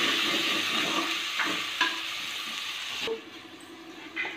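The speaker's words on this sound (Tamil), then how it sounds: "நல்லா தக்காளி ஆட் பண்ணிக்கிறோம்" Tomatoes fry in a pan of mutton biryani base, giving a steady close sizzle with soft scraping stirs, before the hiss drops away near the end.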